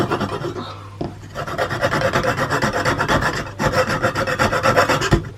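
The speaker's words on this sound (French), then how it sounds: "L'avantage de cette scie, c'est qu'elle est très souple. Donc pour couper des picots comme ça, c'est très bien." A flexible hand saw cuts through glued wooden pegs with rapid, even rasping strokes, loud and close, after a brief pause near the start.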